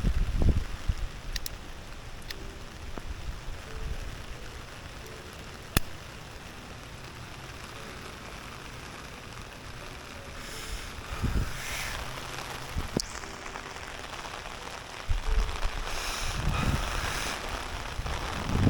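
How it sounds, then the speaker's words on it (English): Heavy rain drums steadily on an umbrella overhead with occasional wind gusts buffeting the microphone, a few sharp clicks and taps standing out, and no one talking. "Oh man, though, it is raining so hard actually."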